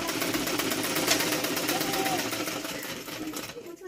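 A sewing machine stitches a saree fall with a continuous close, buzzing whir that stops near the end, while someone talks over it.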